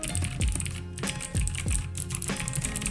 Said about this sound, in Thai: ฟังเสียงนะครับเสียงคีย์บอร์ดจริง ๆ เสียงจะเป็นเช่นนี้ครับ